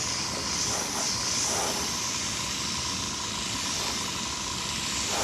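Airbrush spraying paint during touch-up on a 1972 Dodge Challenger restoration, a steady close hiss of compressed air with a faint tonal whine, running continuously without speech.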